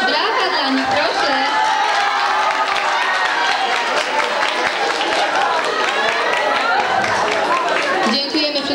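A studio audience at a dating show claps and cheers loudly and continuously for the contestants, a dense wash of applause with crowd chatter mixed in.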